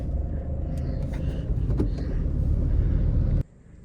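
A 2018 Maruti Swift VXI driving, its engine and road rumble loud and steady from inside the cabin until the sound drops off abruptly near the end.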